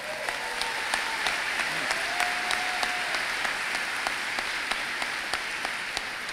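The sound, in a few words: audience applause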